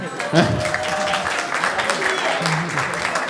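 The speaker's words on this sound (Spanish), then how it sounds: "Un aplauso para Ismael." Applause from a live audience at a podcast recording, greeting the moderator Ismael, a steady patter of many hands clapping with a voice talking over it near the start.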